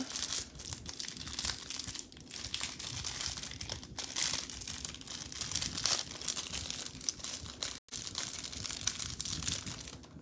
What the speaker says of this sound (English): We're just gonna open up the package and thread them through.